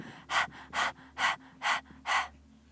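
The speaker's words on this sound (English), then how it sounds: "begin breath of fire now through an open mouth. So open the mouth, stick your tongue out, panting like a dog." Breath of fire in kundalini yoga is done as open-mouthed panting, five strong, close, evenly spaced breaths in a steady rhythm over a low hum, with no talking.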